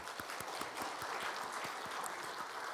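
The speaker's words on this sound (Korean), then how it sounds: "우리 첫 번째 찬양을 기쁘게 받으실 우리 하나님께 박수로 영광 돌리겠습니다" A church congregation claps during a Sunday service after a hymn of praise, a steady, fairly faint patter of many hands in a reverberant sanctuary.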